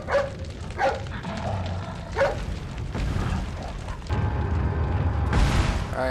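Dog barking in Resident Evil 4, a few sharp barks near the start over a loud, busy game soundscape of low rumbling booms and effects that swell toward the end.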